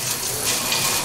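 Lukewarm tap water runs in a steady, close, hissing gush while a tuba is being cleaned, a brief continuous splash with no voices.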